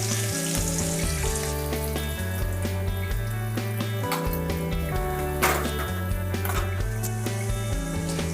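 Onions sautéing in hot oil with cinnamon, cloves and cardamom for chicken biryani, giving a steady, close sizzle and occasional stirring under continuous background music.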